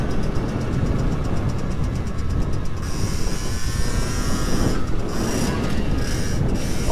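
A Sherco 50 motorcycle engine during a break-in ride drones steadily with wind rush, the revs shifting abruptly as a gear is skipped, loud and close throughout.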